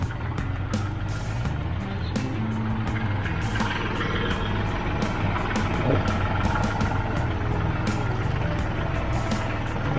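A steady tractor engine idling with a low, even rumble and faint mechanical ticking, continuous with no talking.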